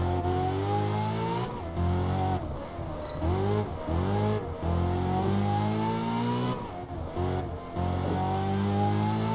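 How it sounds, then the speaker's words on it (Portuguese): A Ferrari California in the racing game Test Drive Unlimited 2 roars as it accelerates, its engine note climbing through gears in repeated rising sweeps with brief dips at each shift, loud and close throughout. "Eu quero só ver o ronco da escuderia"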